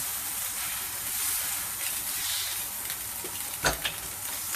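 Red mullet fillets fry skin-side down in a hot frying pan with a loud, close, continuous sizzle, broken near the end by a brief sharp clatter of utensil on pan.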